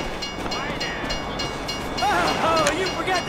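A train rumbles past in the GTA V video game, a steady rolling rail noise with clanks and squealing tones rising in the second half, loud and continuous.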